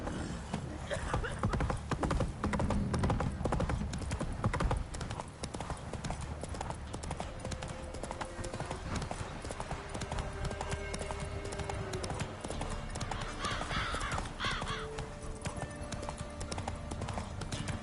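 Roach, the horse in The Witcher 3: Wild Hunt, gallops with a steady, close clip-clop of hooves that carries on throughout, under game music and occasional voices.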